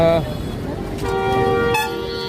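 A vehicle horn honks in a long sustained blast, then a second shorter toot, loud over street traffic noise amid a crowd of pilgrims in Saswad.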